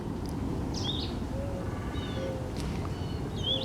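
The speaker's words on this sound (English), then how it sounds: "The birds chirping." Birds chirp and call softly at a distance on a quiet Easter morning in a backyard garden, scattered brief tweets and whistles over a steady outdoor hush, with no talking.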